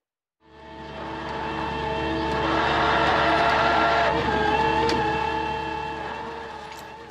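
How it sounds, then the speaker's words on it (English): Fishing boat engines run in a steady, loud drone with layered harmonic hum, building in at the start and holding through, with faint mechanical clanks and a brief whine near the middle. "This is the sound from the engines of the fishing boats"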